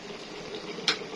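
Chicken shawarma with soy sauce and tomato simmers in a pan, a soft steady bubbling sizzle close by with one brief brighter splash near the end.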